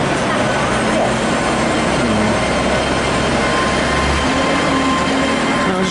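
A train pulls in to a station platform on a service bound for London Paddington, with a loud, continuous rumble of wheels and carriages and faint squeals holding steady from start to end.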